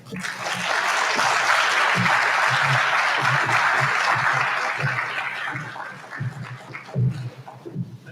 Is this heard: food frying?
no